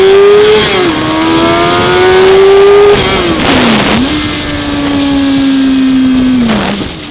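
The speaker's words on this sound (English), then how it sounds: "You blast through first gear and you're at the speed limit." A car accelerates hard through first gear, its engine note climbing in loud sweeping pulls with quick gear-change dips between them, close and alone without voices.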